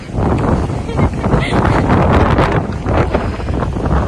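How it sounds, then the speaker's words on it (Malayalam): Strong wind roars and buffets the microphone continuously and loudly, with a voice partly buried under the rumble. "ഭയങ്കര കാറ്റുണ്ട്."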